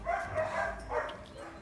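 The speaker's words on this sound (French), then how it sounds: "Donc là vous avez une partie des chiens." Several dogs bark in a kennel, a couple of close, moderately loud barks with a second burst following, over a low background rumble.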